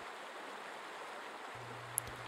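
Mountain stream in Austria flowing steadily as snow begins to fall, an even, broad rushing wash close by, with a faint low hum entering near the end.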